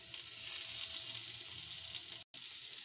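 Ground spices (coriander powder, red chilli powder, garam masala) sizzling steadily in a pan with softened potatoes and parwal, a continuous bright hiss with a brief cutout near the end, no voices.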